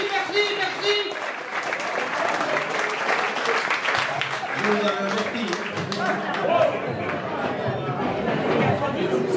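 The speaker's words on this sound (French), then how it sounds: "on applaudit maintenant, bien fort" A standing crowd at a club cycling-tour gathering in a château setting claps vigorously, steady applause mixed with lively chatter and a few raised voices throughout.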